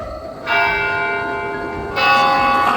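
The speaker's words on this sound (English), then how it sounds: "I'm gonna ring this bell. I'm gonna ring the bell." A church bell rings in the Left 4 Dead video game, two loud resonant strikes with long humming overtones, the second stroke landing about a second and a half after the first and both ringing on without pause.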